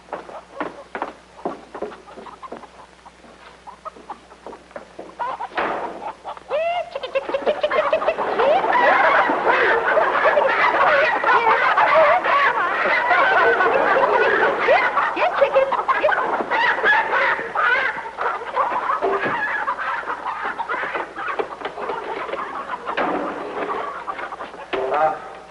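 Chickens cluck and chatter in a country chicken coop in a 1950s sitcom scene, a dense, continuous flock din swelling after a few quiet seconds and carrying on steadily, with scattered footsteps and noises early on.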